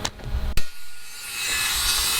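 Framing nails driven into wooden deck framing, a single sharp strike followed by a broad hissing wash of noise, close and fairly loud with no talk.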